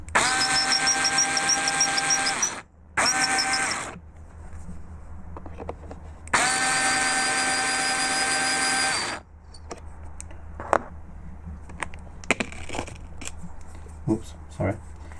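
A Hornady Case Prep Trio machine with a chamfer and deburr tool runs in two loud, steady whining bursts separated by short gaps, followed by quieter clicks, knocks and handling noises.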